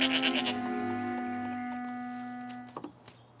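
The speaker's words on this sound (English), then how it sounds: "they added a goat here and called attention to it sort of by adding that sound effect" A goat bleat added as a cartoon sound effect in My Little Pony, a single sustained wavering bleat that fades over a few seconds before a few brief clicks, with no talk.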